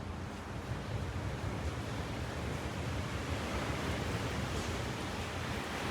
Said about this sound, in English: Look at the swell rolling in here.